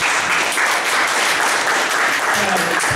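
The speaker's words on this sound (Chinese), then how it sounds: "所以我们先热烈掌声欢迎" A live audience breaks into loud, sustained applause welcoming a speaker to the stage at a Taiwanese talk event, dense clapping filling the whole stretch without pause.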